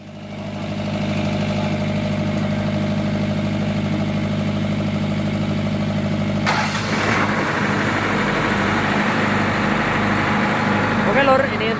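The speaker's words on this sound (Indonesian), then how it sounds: "kita lihat untuk gensetnya lor." A diesel generator set powering a sound system runs with a steady, loud low hum and drone, close by, with a brief burst of noise midway and faint voices.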